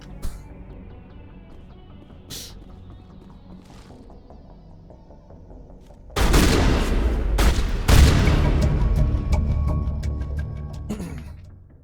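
Gunfire in the sci-fi shooter Mass Effect, with scattered faint shots at first, then loud, dense bursts of rapid fire and impacts breaking out and continuing to the end.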